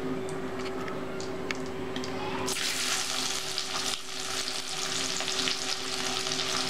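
Onions hitting hot oil in a kadai set off a sudden, loud, dense sizzle that continues steadily, after a quieter stretch of oil heating with a faint steady hum; no voices.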